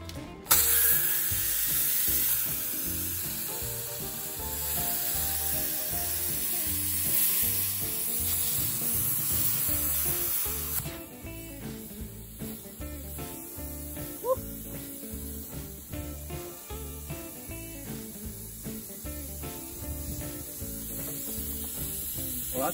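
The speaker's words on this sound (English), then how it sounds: "let's cut this center panel out, see what kind of surprises await." A cutting tool working through the center panel of a metal fuel tank, a harsh sizzling, grinding hiss with rapid rattling pulses that shifts to a choppier, stuttering cut partway through, close and loud.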